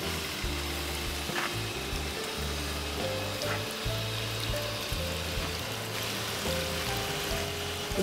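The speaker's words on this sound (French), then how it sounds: "Hein. L'eau qui arrive." Water runs through a small stream, torrent and waterfall in an outdoor Christmas miniature village, making a steady, continuous rushing trickle throughout, with low tonal sounds underneath.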